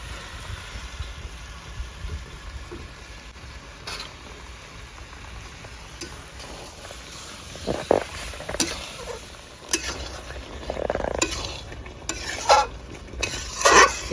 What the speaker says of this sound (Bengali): এবারে এখানে আমি পটল, ভেজে রাখা পটল আর আলু একসঙ্গে দিয়ে দেবো।